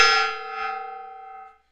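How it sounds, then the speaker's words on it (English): A single gong strike with a bright metallic ring that swells briefly and then fades smoothly over about a second and a half, standing alone without talk. "Gotta hit that gong."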